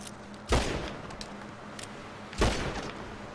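Gunfire in the GTA 5 video game: two sharp, loud shots about two seconds apart, each with a short decaying tail, over a low steady background hum.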